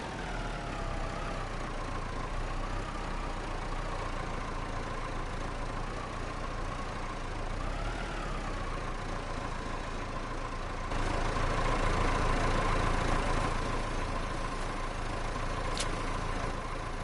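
Tractor in Farming Simulator 25 idling steadily with a low constant hum that swells slightly louder toward the end.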